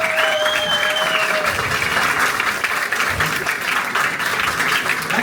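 Audience clapping and cheering at a stand-up comedy show, sustained loud applause filling the room, with a few whistles and shouts near the start.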